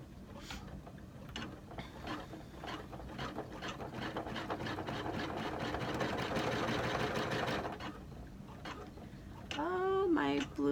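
An embroidery machine stitches a starfish design with its thread tension set poorly, a steady fast rattling hum running through the whole stretch, growing denser in the middle, while a voice talks over it near the end.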